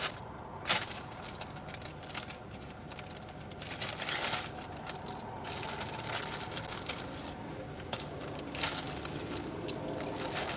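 Coins dropped one by one into a payment machine, a run of bright metallic clinks and jingles at irregular intervals over a low background hum, close and moderately loud, with no talk.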